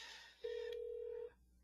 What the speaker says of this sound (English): we're going to go ahead and make a phone call.